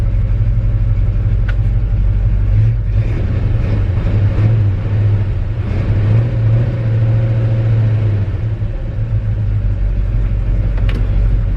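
A 1963 Chevy C30 truck engine idles with a steady low rumble and slight uneven roughness, close and loud throughout, with no voices.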